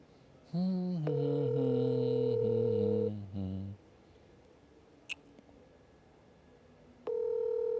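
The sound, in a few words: telephone call ringing tone while waiting for answer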